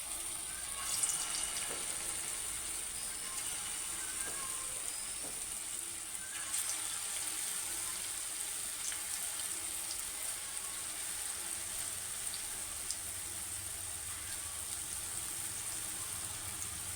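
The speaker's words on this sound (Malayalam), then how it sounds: "ഇങ്ങനെ മാറ്റി വെച്ച പാത്രത്തിൽ നിന്ന് ഗോതമ്പ് ചൂടായ എണ്ണയിലോട്ട് ഇട്ട് കൊടുത്തു." Balls of wheat-flour dough fry in hot oil with a faint, steady sizzling hiss that runs unbroken throughout, with only a few soft crackles.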